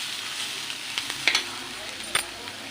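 Ivy gourd chutney stirred and fried with curry leaves and coriander, a soft continuous sizzle with a few light scrapes and taps of a spoon in the pan.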